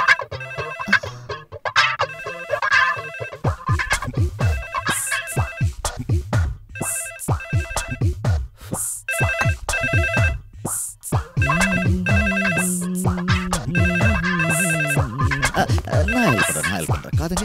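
A telephone ringtone plays repeatedly in a Tamil film scene, a bright electronic melodic ring recurring across the clip, with background music and a voice briefly heard alongside.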